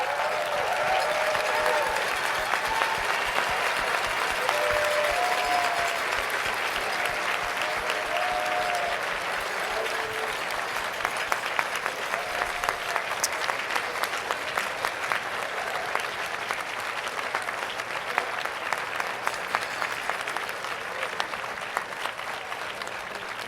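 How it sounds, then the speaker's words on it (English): A graduation crowd in a tent gives the class of 2020 a long, sustained round of applause at a diploma ceremony. The clapping is even and full for over twenty seconds, with faint voices scattered through it. "give the class of 2020 one more round of applause"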